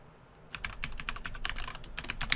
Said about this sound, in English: Talking and typing is really hard.